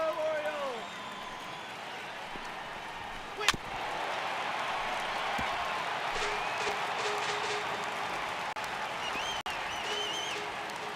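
Steady crowd roar at a baseball stadium in MLB The Show 18 during an Orioles versus Guardians game, filling the whole stretch at an even level, with one sharp crack cutting through briefly near the middle.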